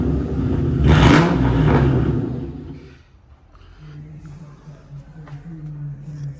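A Ford Mustang GT with new rear gears revs loudly, the engine rising to a peak then dropping off before settling into a lower, steadier idle rumble.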